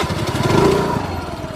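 A small motor scooter engine runs close by, a loud buzzing drone with a fast, steady pulse.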